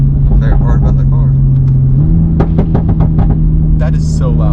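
A 500 HP Toyota Supra accelerating, its engine and exhaust giving a loud low droning rumble that steps up in pitch partway through, heard from inside the car with people talking over it.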